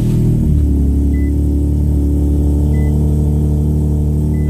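An Infiniti Q50 with a fault is being driven, producing a loud, steady, low engine and road drone heard from inside the car, with a slight shift in tone near the start.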